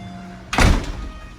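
A door leading from the entry area into the garage of a newly built model villa opens with a single solid thunk, close and fairly loud, ringing briefly before fading into room tone.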